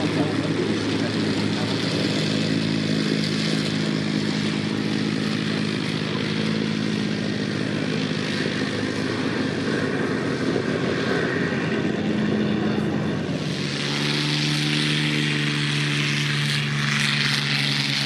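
WWII propeller aircraft circling over an airfield: continuous droning engine hum, fairly loud and steady, with pitch shifting as the plane passes and turns late on; a voice speaks over it.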